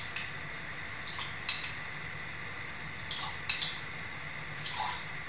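A spoon stirs a lime juice and sugar dressing in a bowl, giving a few faint, light clinks against the side over quiet background hiss, with no talking.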